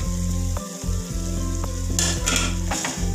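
Tomato masala fries in oil in a pan, the tomatoes already soft and the oil risen to the surface. A loud, close, continuous sizzle sits over a steady low hum, with brief crackling bursts toward the end.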